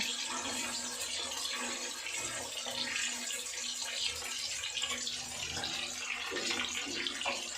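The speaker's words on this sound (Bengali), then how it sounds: "মাছগুলো খুব ফুটছে।" A constant, fairly loud bubbling hiss of rohu fish curry boiling hard in a pan, continuing without pause.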